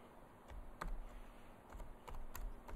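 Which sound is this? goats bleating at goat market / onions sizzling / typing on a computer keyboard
typing on a computer keyboard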